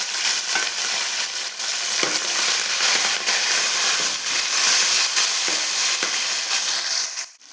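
Shallots, green chilli and tomato fry for a fish curry, giving a loud continuous sizzle and hiss with steam. Stirring scrapes and clacks come through at irregular intervals, and the sizzle drops away right at the end.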